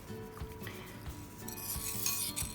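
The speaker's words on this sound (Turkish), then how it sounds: "Güzelce salçamı ezdikten sonra güzelce salçalı sosumu yapıyorum, eziyorum." A utensil mashes and stirs tomato paste sauce for an oven-baked eggplant kebab, giving soft, close clinks and scrapes against a dish in an irregular rhythm.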